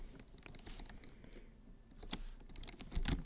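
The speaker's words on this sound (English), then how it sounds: "typing this in chat" Keyboard typing during a podcast, a quiet run of soft irregular key clicks with a few sharper taps and a louder burst near the end.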